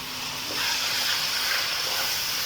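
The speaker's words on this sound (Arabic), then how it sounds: "نشوح الرز كده" Rice sautéing in a pot, a steady broad hiss and sizzle that swells slightly after the first half second and holds evenly to the end, with no voices.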